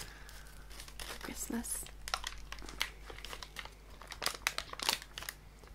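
Plastic bag crinkling and rustling in short bursts up close, with a person talking quietly over it.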